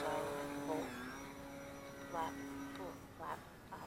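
A small radio-controlled model airplane takes off on a foggy morning. Its electric motor whines as a steady tone that dips and shifts in pitch with the throttle, moderately close, over faint background noise.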